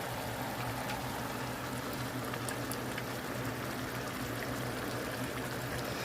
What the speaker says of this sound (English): I'm going to add some hot sauce into the water.